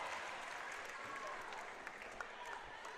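Crowd at a women's college basketball game applauding and cheering, a steady wash of clapping heard from a distance with a commentator talking over it.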